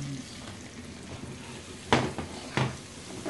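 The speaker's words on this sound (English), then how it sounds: "Give it a stir around." A spoon stirs spices, cinnamon and oregano, through moussaka mince in a pan, with a soft steady frying hiss and two louder scraping knocks near the end.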